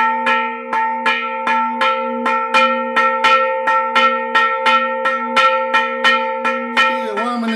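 Church bells ring loudly as an alarm in a national exercise, steady repeated strokes, a regular clanging peal with long ringing overtones, continuing for several seconds alone.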